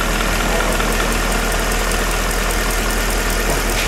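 A Mercedes V6 or V8 engine idles on LPG autogas after a do-it-yourself conversion, heard close and loud as a steady, dense mechanical hum with a continuous rattling roar and no pauses.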